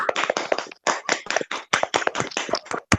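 Applause in an online meeting, heard as a close burst of rapid, uneven hand claps that keeps going nearly without a break, with a few brief gaps.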